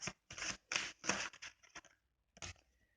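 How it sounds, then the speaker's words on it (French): A tarot card drawn from the deck gives a handful of quick, close papery swishes and slides in short bursts, with a brief pause before one last soft rustle; no one speaks. "On va retirer une carte sur le valet de coupe pour voir ce que c'est."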